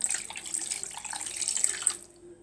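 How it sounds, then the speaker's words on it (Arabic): A cup of water pours steadily into a cooking pan in a home kitchen, a close, hissing splashy stream lasting about two seconds before cutting off. "هنجيب كوبايه ميه ونحطها من تحت"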